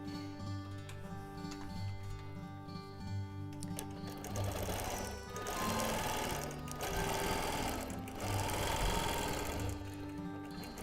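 A sewing machine stitches a quilt in a continuous close-up whir, a busy mechanical hum with rapid needle chatter that rises and falls slightly in intensity throughout, with no voices.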